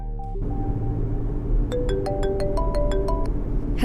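A mobile phone ringtone plays a bright melodic tune of repeated chiming notes, starting after a brief opening tone and continuing steadily over low background hum, with no talking.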